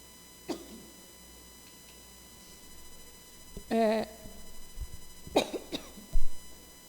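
A few scattered coughs, with one short harsh burst in the middle and more near the end, over a quiet background with a faint hum, during a municipal council session.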